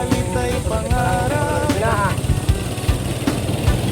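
A small fishing boat's motor engine chugs steadily and loudly throughout, a continuous low rumble with people talking over it.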